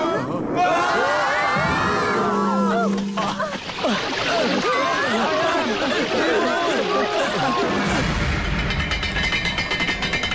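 Children in an animated comedy shout together loudly and excitedly, their overlapping high voices forming a chaotic, crowd-like din with a brief splash-like burst, and adult speech mixed in.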